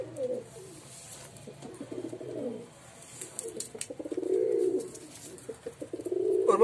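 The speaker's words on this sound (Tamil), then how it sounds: "இன்னொரு புறா இருக்கு, அதையும் காட்டுறேன்." A pigeon with a cold coos in a cage, several low throaty coo phrases close to the microphone, with a rough, congested quality and short pauses between calls, no talking.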